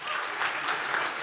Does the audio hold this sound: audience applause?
yes